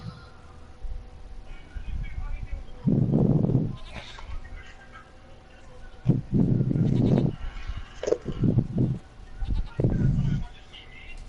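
A goat in The Witcher 3 bleats loudly in several drawn-out calls spaced a few seconds apart, close and clear over a low game background.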